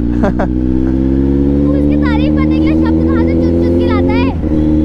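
A Kawasaki Z900 superbike holds a loud, steady engine and exhaust drone at close range, while someone speaks over it throughout.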